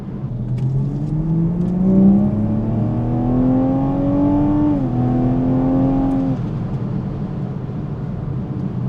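A 2020 Toyota Supra 3.0 GR accelerating hard, its engine note climbing steadily through a gear with a brief dip at a shift, then the pitch falling away as the throttle lifts, loud and close over constant road and cabin noise.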